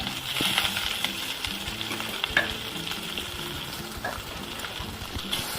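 Steady, dense sizzling of onions and curry leaves frying in oil, with faint stirring scrapes throughout, close and continuous.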